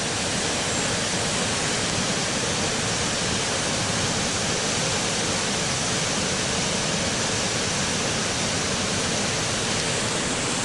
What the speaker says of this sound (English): Really white water. I don't think I'll be getting into that anytime soon.